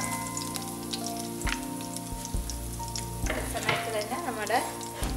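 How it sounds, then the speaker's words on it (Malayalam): Dried red chillies frying in a pan as the first step of vermicelli upma, a close sizzle with spoon stirs and scrapes, steady and moderately quiet. "ഇളക്കാം."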